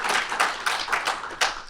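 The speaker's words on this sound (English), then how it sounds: "Round of applause." Audience applause at a Heroes Con 2019 panel: a brief burst of clapping from a crowd with sharp, irregular hits, moderately loud and close, with no talking.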